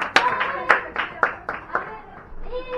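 A youth meeting group claps together in a steady rhythm, about six sharp claps roughly half a second apart, while voices chant over the beat.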